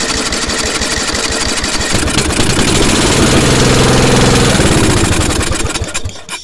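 10 HP Briggs and Stratton engine restarting with the choke on, a loud, close, rough chugging that rises into steady running and then dies away as the engine cuts out.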